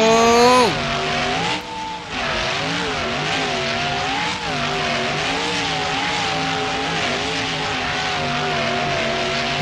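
A big block dump truck in the BeamNG.drive video game churns through deep mud, its engine roaring steadily with wavering pitch as it revs and strains throughout.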